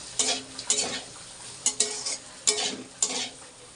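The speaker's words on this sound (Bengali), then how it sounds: "আর এখানে যে টিফিন বানাচ্ছি, গাজর আলু ভাজা।" Carrots and potatoes fry in a pan over a steady low sizzle, with repeated scraping stirs at an irregular rhythm. The sound is close and quiet, with no talking.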